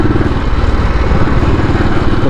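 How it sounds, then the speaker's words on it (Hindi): Motorcycle engine running steadily while being ridden on the road, a loud continuous low rumble with wind buffeting and no break over the short stretch. "पीसफुली अपनी मोटरसाइकिल चला रहे"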